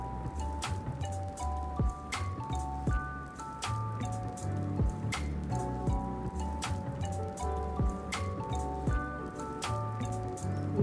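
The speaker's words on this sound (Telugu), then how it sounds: "ఈ ఆయిల్ వేడైన తర్వాత ఒక కరివేపాకు రెబ్బ అదేవిధంగా రెండు ఎండుమిరపకాయలు యాడ్ చేసుకొని కలిపి" Curry leaves and dried red chillies fry in hot oil for an ivy gourd stir-fry, giving a steady, close sizzle with scattered sharp pops and crackles over a faint tonal background.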